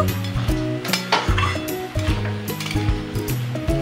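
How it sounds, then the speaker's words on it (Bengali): A spoon scrapes and knocks around a pot while rice and dal are mixed over a gentle sizzle, with repeated close clinks and stirring strokes and no speech. "তারপর ভালো করে ধুয়ে পরিষ্কার করে চালটাও এর মধ্যে দিয়ে সব কিছু খুব একসাথে ভালো করে মিশিয়ে নেব।"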